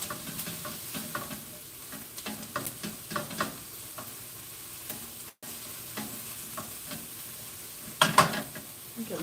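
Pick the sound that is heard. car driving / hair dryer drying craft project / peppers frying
peppers frying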